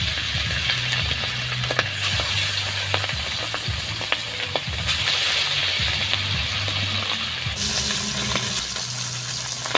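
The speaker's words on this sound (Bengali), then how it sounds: "এখন আমি মাছগুলোকে ভেজে নিচ্ছি" Pabda fish fry in hot oil in a wok, giving a loud, continuous sizzle and crackle with occasional sharp clinks and spatters of utensils throughout.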